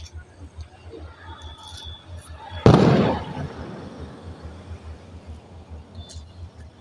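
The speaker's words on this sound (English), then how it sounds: "the fireworks going on bang bang and boom" A single loud firework bang bursts out and rumbles away into a fading echo, with a low steady background hum and faint crackles afterward.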